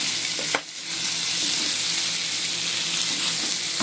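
Barbecue pork and cucumber sautéing in a hot pan with oyster sauce, a loud steady sizzle throughout with a brief stir or clatter near the start.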